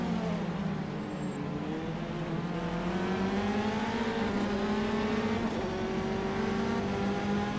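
A Formula 3 race car at Hockenheim drones close by. Its engine note climbs steadily and then drops abruptly at a gear change, with no talk over it.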